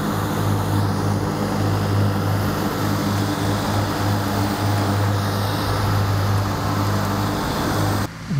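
Ride-on rough mower cutting the rough on a golf course, a steady loud engine drone with a low hum running unbroken for about eight seconds, briefly dipping at the end, with no talking.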